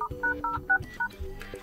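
Keypad tones sound on a Redmi Note 12 Pro phone dialer as a secret code is entered, six or so short, crisp beeps in quick succession, close and clear.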